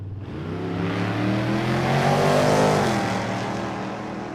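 Drag race cars, a Pontiac GTO and a Pontiac, roar down the strip side by side, the loud engine note climbing under acceleration, peaking and then fading as they pass.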